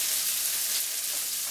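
Asparagus stir-frying in a hot pan for a shirataki noodle and shrimp dish, giving a steady, close sizzle with a faint crackle and no talk.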